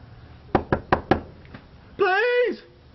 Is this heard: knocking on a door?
yes